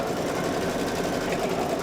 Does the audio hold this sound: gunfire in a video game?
no